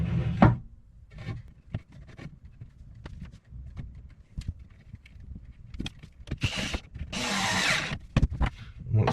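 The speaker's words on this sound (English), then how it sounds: "tweak them in with a screwdriver, and then one rail across" Screws being driven by hand with a screwdriver into the rails of a small bookcase on a boat, a run of close, scattered clicks and creaks with a couple of brief louder scraping bursts.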